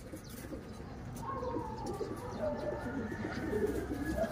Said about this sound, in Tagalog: Ito na yung panglima nating ibon.